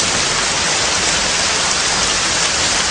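Steady heavy rain falls in a dense, even hiss that continues without a break.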